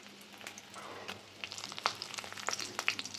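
Dried red chillies fry in hot oil for a Tamil kara kuzhambu with bitter gourd and okra. The crackling and popping builds and grows busier over a few seconds, close and with no talk.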